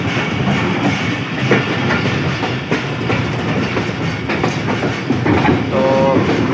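A passenger train rolls into the loop line at Muzaffargarh railway station, with loud continuous rumble and clickety-clack of wheels over the rails, heard from on board, with no talk.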